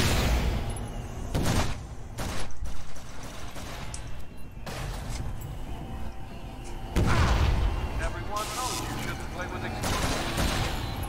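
Repeated booming blasts and gunfire-like bursts crash through a dense soundtrack during a boss fight in the Flashback remake, with a voice talking over the loud, chaotic action.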